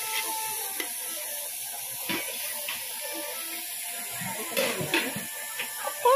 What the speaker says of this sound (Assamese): অকণমান ভাজি লৈছোঁ